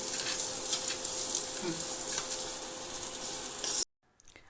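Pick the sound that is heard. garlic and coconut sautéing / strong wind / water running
garlic and coconut sautéing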